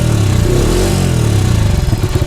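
Exhaust note of a Bajaj Freedom 125 CNG motorcycle running close by, a steady low engine drone that swells briefly as it revs, then settles into a pulsing idle toward the end.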